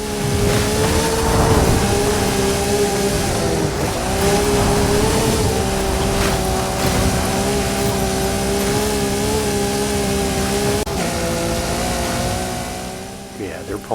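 Porsche 959 Rally Raid engines in a racing video game drone loudly and steadily with slight pitch shifts throughout, and the sound stays continuous from start to finish.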